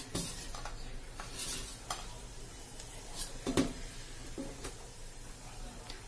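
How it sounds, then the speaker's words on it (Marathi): Cumin seeds crackle and sizzle as they hit hot oil in a pan for a Khandeshi ambadi leaf dish, a steady close hiss broken by sharp stirring clinks and scrapes. "आता आपलं तेल छान तापलेलं आहे। आता आपण त्याच्यात थोडं जिरं टाकून घ्यायचंय।"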